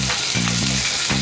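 Chopped chicken hits a hot pan and fries with a loud, steady sizzle close up, with a couple of brief stirring scrapes over the continuous crackle.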